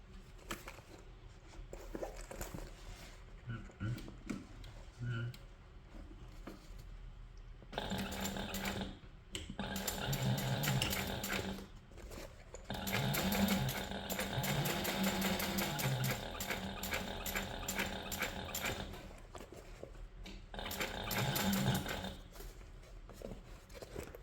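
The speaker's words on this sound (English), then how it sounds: "Now we'll go ahead and sew this in place using approximately a 1/4 inch seam allowance" A sewing machine stitches a quarter-inch seam on a crossbody waist bag in several long runs with rapid mechanical rattling, separated by quiet pauses, close and fairly loud.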